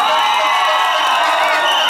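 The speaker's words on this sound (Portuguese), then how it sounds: "Palmas para Eldinho, gente" A loud, dense crowd cheers and shouts at an outdoor political rally in Pingo D'água, Minas Gerais, a continuous roar of voices with some applause underneath.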